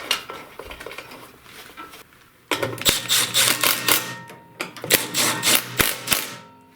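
Bolts being fitted on a Briggs & Stratton snowblower's top cover, a close series of rapid metallic clicks and rattles in bursts, likely from a ratchet, with a brief pause partway through.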